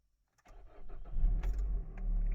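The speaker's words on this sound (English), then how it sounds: "So I will start the car and then we will see what will happen." A car engine cranks and catches after a moment of quiet, then settles into a loud, steady low idle close by.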